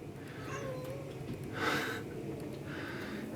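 A cat meows in a few soft, drawn-out calls, one stronger in the middle, over a faint steady background hiss indoors.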